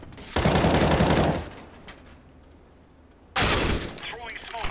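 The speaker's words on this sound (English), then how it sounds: "Deploying flashbang." A flashbang grenade goes off in a team shooter video game on the Shipped map, with loud blasts and shattering noise, a quieter lull, then a second loud burst. A voice talks over parts of it.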